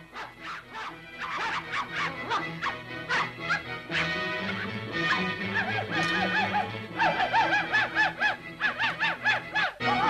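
A person imitates a dog, yelping and barking in quick, whimpering bursts close to the mic, with the voice rising and falling through repeated yips over about ten seconds.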